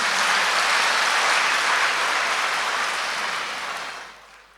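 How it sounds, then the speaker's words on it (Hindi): A large audience claps loudly at a spiritual gathering, a dense, sustained burst of applause that holds steady and then fades out toward the end. "हम बच्चे ना, ताली बजा अपने लिए।"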